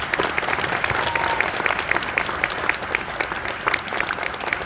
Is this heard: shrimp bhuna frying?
no